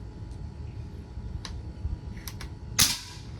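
A PCP air rifle fires a pellet with one sharp, close crack near the end, preceded by a few faint clicks over a quiet low background rumble.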